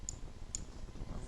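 A couple of sharp, faint clicks from a computer mouse, spaced about half a second apart over a quiet room hum.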